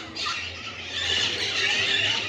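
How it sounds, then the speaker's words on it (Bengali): A grey parrot at Alipur Zoo in Kolkata lets out a drawn-out, harsh squawk, moderately loud and close, with no talk over it. "grey parrot"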